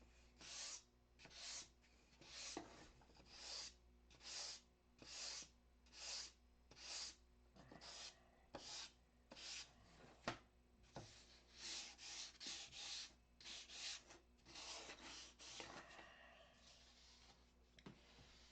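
Light hand sanding of a model buck with 320-grit paper, rhythmic back-and-forth rasping strokes, close and regular, about sixteen strokes with brief pauses between them.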